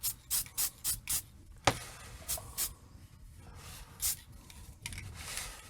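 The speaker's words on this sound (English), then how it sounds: "Low odor clear matte spray from Krylon. And we're just going to shake it up and just give it a quick little spritz here." A can of Krylon low-odor clear matte spray paint rattles in a quick burst of shakes, then gives several short, close hissing spritzes onto a painted Man of Steel figure.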